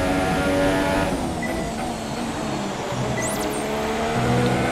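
A Formula 1 race car in the F1 2017 video game brakes hard during qualifying, with a loud, steady engine drone and tire squeal over several seconds and no talking.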